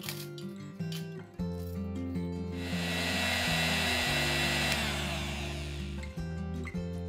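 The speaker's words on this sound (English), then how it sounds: "let's grind the chillies into a fine powder" An electric grinder powders roasted chillies, its motor whirring steadily, then rising into a louder coarse grinding roar before settling again, close and continuous with no talking.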